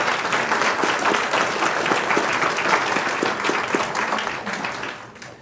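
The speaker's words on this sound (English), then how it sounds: "And you absolutely can clap for that." Sustained audience applause fills a school board of trustees meeting, dense steady clapping from a crowd that holds for several seconds before tapering off near the end.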